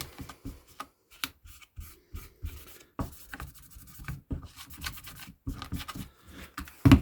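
Brush scrubbing flux off a freshly soldered crossover circuit board from a Celestion Ditton 25 speaker being re-capped: a series of short, dry rubbing and scratching strokes in uneven bursts, close and fairly quiet, with no talking.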